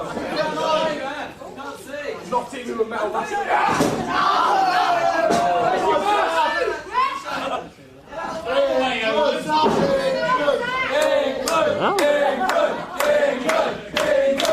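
A large wrestling crowd roars, cheers and chants continuously during a match between Bryan Danielson and Sabre Jr., loud and sustained with brief dips, as a commentator speaks over it.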